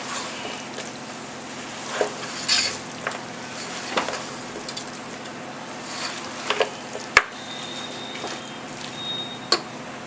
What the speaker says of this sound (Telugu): ఇప్పుడు ఒకసారి కలుపుకుందాం అండి మొత్తం.